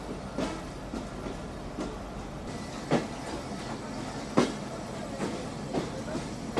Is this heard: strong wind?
no